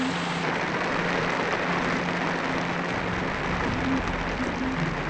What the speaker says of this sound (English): And now comes the rain.